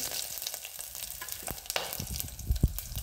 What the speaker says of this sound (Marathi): आता हे सगळे टाकणार खडे मसाले.